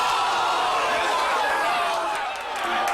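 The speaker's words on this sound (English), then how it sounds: "The place goes nuts as the Owls build a 16-point lead at the half." Basketball arena crowd roaring and cheering during an NCAA tournament game, a dense, sustained wall of noise with mixed voices and shouts throughout.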